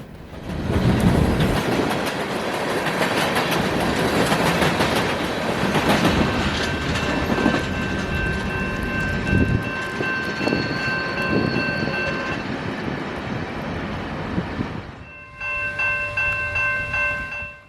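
A freight or passenger train passes close by at Stevenson with a loud, steady roar and rhythmic wheel clatter for a long stretch, ending with sustained horn-like tones as the cars roll on.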